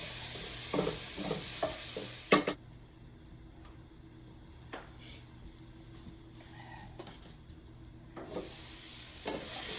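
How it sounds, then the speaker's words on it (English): Kabocha squash with tarragon, celery, fennel seed, salt and pepper cooks in a pan, a soft sizzle with scattered spoon-stirring clicks, louder scraping at the start and end and quieter in between. "Stir up that kabocha squash, tarragon, celery, fennel seed, salt and pepper."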